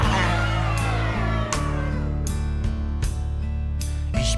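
A playful voice imitates a cat meowing, repeated short sung meows in a bouncy rhythm over a steady backing tune, close and fairly loud.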